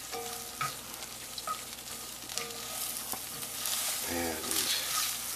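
Creamed spinach with freshly grated nutmeg being stirred in a hot pan, giving a steady soft sizzle with scraping and clinking of the spoon, close and moderately loud, with no talking.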